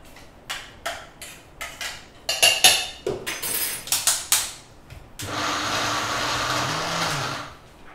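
Kitchen blender grinding soaked dal (lentils) into a paste: a series of short pulsed bursts, then a loud continuous whirring run of several seconds that cuts off.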